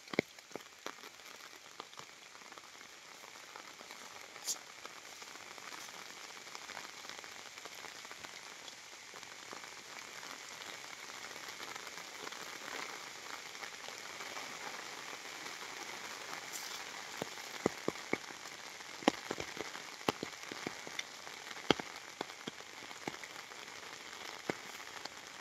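Steady rain patters softly and continuously on a farm lot in Majayjay, Laguna, with scattered sharper drips tapping nearby throughout.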